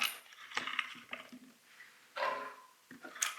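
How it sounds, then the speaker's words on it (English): Roughly chopped vegetables are dropped into a cast iron skillet in a few quiet bursts of clattering, tumbling pieces, with short pauses between them. "I'm going to drop those in my cast iron skillet"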